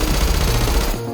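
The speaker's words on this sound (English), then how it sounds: "the Fletcher 14 SMG. This baby sounds incredible" Rapid, continuous bursts of Fletcher 14 SMG fire from a GameMaker extraction shooter, loud and dense with no pauses, cutting off abruptly near the end.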